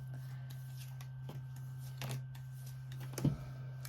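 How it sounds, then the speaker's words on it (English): Tarot cards riffled and shuffled a few times at close range, soft papery flutters and a sharper snap near the end, over a steady low hum. "Going to give the cards another shuffle."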